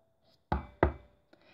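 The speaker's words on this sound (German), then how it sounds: "Jemand klopft an deiner Tür." A sound effect of knocking on a door in a story game: two sharp, solid knocks about a third of a second apart, then a softer tap, with near silence around them.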